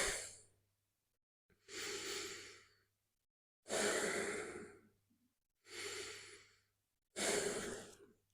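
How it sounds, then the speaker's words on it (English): Five slow, deep breaths during yoga pranayama, each a long airy exhale or sigh separated by clear pauses of silence, close to the microphone and with no talking. "Couple of breaths here."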